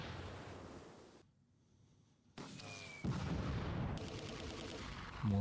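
Mortar rounds landing in the Close Combat 2 wartime strategy game, a few heavy thumping blasts and rumbling impacts after a brief quiet stretch, moderately distant.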